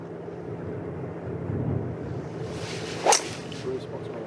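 A golf club whips through a full swing on a tee shot at the Scottish Open, a single sharp swish and strike about three seconds in, over a low murmur of outdoor crowd and wind.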